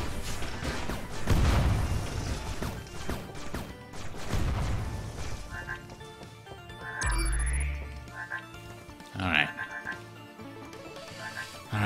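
Frogs croak in the indie action game Ghost 1.0 amid a busy mix of game effects, with heavy smashing impacts and booms early on, then scattered chirpy blips and croaks over a steady electronic background.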